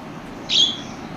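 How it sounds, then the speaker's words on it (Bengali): A single short, bright chirp from a pair of yellow Fischer's lovebirds in a cage, faint and brief over quiet room noise. "এক জোড়া ইউলু ফিশার লাভবার্ড পাখি রয়েছে, চমৎকার কালার"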